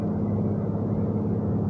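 A car engine pulling up a hill in fourth gear toward Numidia Dragway, a steady loud low rumbling drone close by, with no talking.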